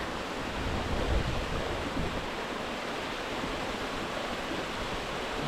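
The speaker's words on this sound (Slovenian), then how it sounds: "Že nad slapem, to izgleda gor višji, pa tale slapek." A waterfall in a canyon rushing as a steady, loud broadband roar that never lets up, with no voices over it.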